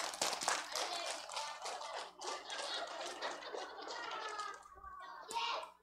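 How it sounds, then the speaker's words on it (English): A congregation at a Christmas Eve church service claps hands, a dense flurry of claps with children's voices mixed in, fading briefly before a final burst. "If you're happy that Jesus was born on this evening, clap your hands."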